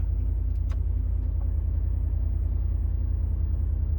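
Ford F-150 pickup idling with a steady low engine rumble while being shifted from 2 high into 4 high four-wheel drive, a couple of faint brief clicks near the start.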